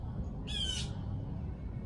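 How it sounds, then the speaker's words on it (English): A single harsh crow caw rings out at mid-distance over steady outdoor background rumble, lasting about half a second before fading back to ambient noise. "We got a bird that wants to interrupt the video."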